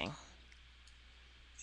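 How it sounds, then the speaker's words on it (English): Fast, furious typing on a computer keyboard, heard as quiet, rapid clicks that are faint and somewhat distant against a low background hiss. "I hear furious typing."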